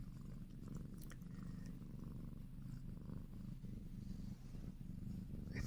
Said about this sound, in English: I think I can hear her purring.